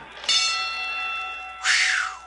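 A bright bell rings twice in an audiobook sound effect, a sustained ringing tone followed after a short gap by a second clanging strike, loud and close with no talk.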